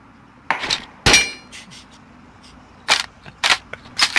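Gunfire in the Ring of Elysium video game: several sharp, cracking shots in irregular bursts, some close together, with quieter gaps between them and no voices.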